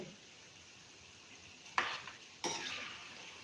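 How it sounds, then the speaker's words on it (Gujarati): A homemade snack frying in hot oil over a low flame until crisp gives a steady soft sizzle, broken by two louder stirring or utensil clatters near the end. "એકદમ સરસ એવી જ રીતે અને તળાઈ જાય છે"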